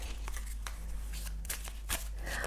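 A tarot card deck is shuffled up close, giving soft papery riffles and flicks in uneven bursts over a steady low background hum.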